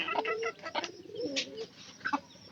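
A pigeon coos close by in a few soft, low, rolling calls with brief pauses between them, in a quiet setting near chickens.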